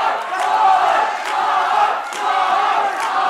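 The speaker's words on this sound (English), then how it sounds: "Big support here for Tom Thompson from the crowd" A boxing crowd at a Thompson v Lee fight roars and shouts in rising waves, a dense, sustained wall of cheering and yelling for boxer Tom Thompson.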